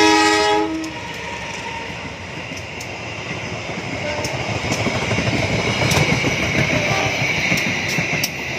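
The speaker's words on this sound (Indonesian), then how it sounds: "kereta api Sri Tanjung melintas langsung stasiun Bayeman" The Sri Tanjung passenger train runs through Bayeman station without stopping, with a steady rumble and rail clatter, opening with a loud horn blast that fades as the cars keep passing.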